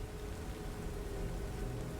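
Steady jungle rain ambience, a dense even hiss of falling rain on foliage, constant and fairly quiet with no voices.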